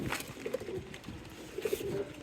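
Racing pigeons coo softly and steadily nearby, a few low throaty phrases repeating at an even pace with no talk.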